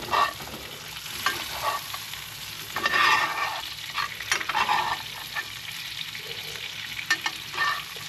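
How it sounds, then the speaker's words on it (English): Steak sizzling in a pan as it is basted with butter infused with rosemary, garlic and oil, a steady hiss broken by spoon scrapes and bursts of spattering, close and alone. "oily butter that's getting infused with the rosemary, the oil, and the garlic, and you're gonna baste that over the entire steak"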